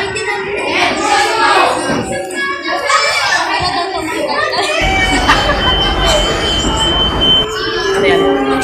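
Train from the Minecraft video game rumbling along its track with squealing wheels, steady and loud throughout, while children talk and shout excitedly over it.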